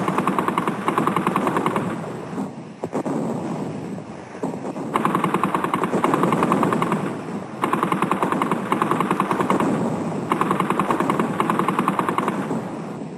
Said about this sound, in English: Then the German machine guns were manned to deadly effect.